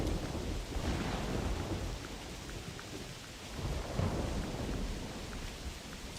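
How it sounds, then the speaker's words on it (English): Steady downpour with deep thunder rumbling through it in theHunter Classic, a hunting game, the storm swelling and easing over several seconds with no one talking. "The rain, thunder, and lightning is really loud."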